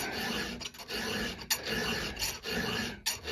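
A hand file rasps across a chainsaw chain's cutters in repeated strokes with short pauses between them, close and fairly quiet.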